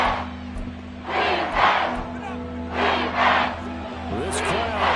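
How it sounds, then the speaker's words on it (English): A football stadium crowd roars steadily through a Week 15 game against the Falcons, swelling in waves with shouts rising above a dense, far-off mass of voices. "This crowd doing all they can."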